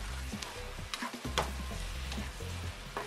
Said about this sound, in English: now my spinach is cooking down